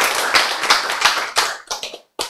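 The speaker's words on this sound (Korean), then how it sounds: "이 박수라는 것은 생기를 많이 받도록 연습하는 거예요." Hands clap in a dense, steady run of close, loud claps during a health lecture, slowing near the end into a few spaced claps after a short silence.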